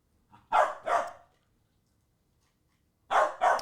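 A ten-week-old puppy gives two sharp barks, falls silent for a couple of seconds, then barks twice more, close and clear.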